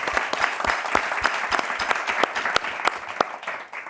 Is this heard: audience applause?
yes